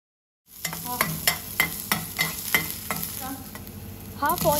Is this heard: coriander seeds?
yes